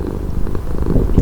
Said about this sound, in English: He's just a cat now.